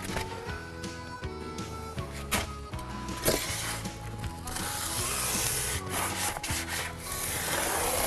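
Foam backing for steel log siding being cut by hand, a steady scraping, rubbing rasp with repeated strokes and some faint clicks, close and fairly loud, with no talking.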